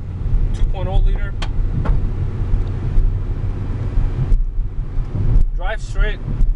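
A 2010 Nissan Sentra with a 2.0-liter engine and CVT transmission drives along a road, giving a steady interior road rumble and wind noise while people talk over it.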